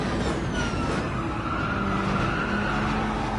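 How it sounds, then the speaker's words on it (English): Raspy car engine in Gran Turismo 7 in PSVR2, a steady harsh drone mixed with tire and road noise, moderately loud and continuous with no talk. "It's got a raspy engine that you can just about hear."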